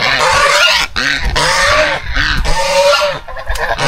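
Young geese, grown nearly to their mother's size, honking loudly and close in repeated bursts with short pauses between calls.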